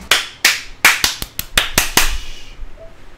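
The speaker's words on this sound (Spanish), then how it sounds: "Aplauso." About ten sharp hand claps ring out in an uneven rhythm from a small group, close and loud, tapering off after a few seconds, after a tight Street Fighter V team match at a fighting-game tournament.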